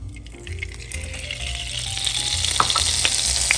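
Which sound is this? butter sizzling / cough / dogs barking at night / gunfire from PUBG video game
butter sizzling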